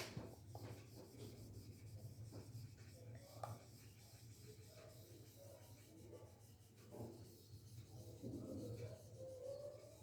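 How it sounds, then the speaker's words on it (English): Chalk diagrams rubbed off a classroom board during a lesson on electric current, a faint continuous scrubbing under quiet room noise with soft, indistinct murmurs. "we will have to erase some of the parts, some of the diagrams"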